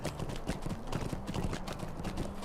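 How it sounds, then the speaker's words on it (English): Horse hooves clip-clop along a road in Lord of the Rings Online, a steady, fairly close rhythm of repeated hoofbeats heard without speech. "A good deal of horse traffic out on the Great East Road today."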